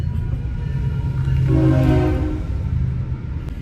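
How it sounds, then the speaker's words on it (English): A train rumbles past close by, a heavy low drone that swells in the middle with a faint horn-like tone, then eases off. "The train is passing."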